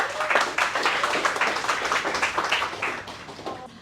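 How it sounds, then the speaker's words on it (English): Applause at a real estate agent training day as a speaker is welcomed, a smaller group clapping in a brisk, close, somewhat uneven patter of distinct hand claps that keeps going evenly. "please, round of applause for Miss Claire"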